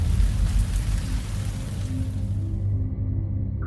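Heavy flash rain pours down in a tropical jungle, a dense steady roar with strong low rumble that thins abruptly near the end.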